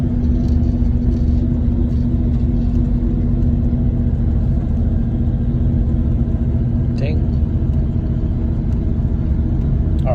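Manual-transmission car engine working in first gear as the driver adds throttle, a continuous close low rumble and drone with a faint voice later on.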